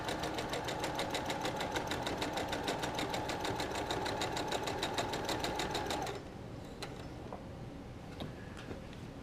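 Sewing machine back-stitching a quarter-inch seam on a leather bucket tote bag, a loud steady rapid mechanical chatter for about six seconds, then stopping, leaving faint room noise and light clicks.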